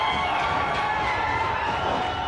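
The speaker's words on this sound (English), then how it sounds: "Crowd is going nuts." A wrestling show crowd roars and cheers as a wrestler makes his entrance, a dense, steady wall of voices that stays loud and unbroken throughout.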